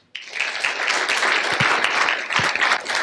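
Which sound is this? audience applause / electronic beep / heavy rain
audience applause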